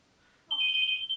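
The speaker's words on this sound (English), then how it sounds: "That's the phone." A telephone begins ringing halfway through, a sharp, steady electronic trill at moderate distance that continues to the end, with quiet room tone before it.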